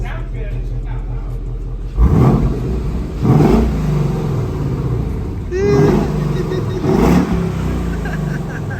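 A 2016 Ford Mustang 5.0 V8 with a Corsa exhaust idles with a deep rumble, then gets blipped in several sharp revs that rise and fall, with people talking over it.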